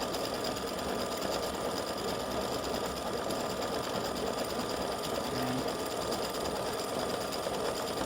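A freestanding lace embroidery machine runs its final pass over a St. Patrick's Day horseshoe design, a constant close, fast mechanical stitching drone that holds steady throughout with no voices.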